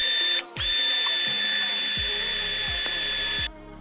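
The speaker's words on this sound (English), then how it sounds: "I'm gonna stick my drill in here, start cutting." Power drill cutting into a Mazda RX-8 Renesis rotary engine rotor, a steady high-pitched whine running almost continuously with a brief stop near the start, alone and fairly loud.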